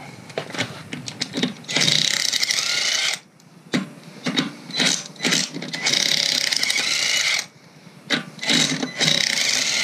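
Ratchet loosening the wheel fasteners on a Toyota Supra: close, loud bursts of rapid pawl clicking in repeated strokes with short pauses between them, no voices.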